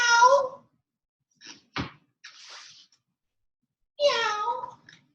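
Two meows voiced by a person imitating a cat, one at the start and one near the end, with a soft thump and brief rustle between.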